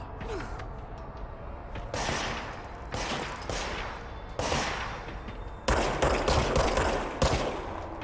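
Gunfire in the video game Control, repeated bursts of loud, close shots in clusters separated by brief pauses, with no talking over them.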